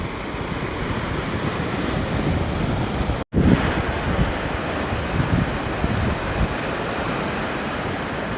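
Madhuvanti river running in overflow after heavy rains, a loud continuous roar of rushing water with wind buffeting the microphone and one brief dropout.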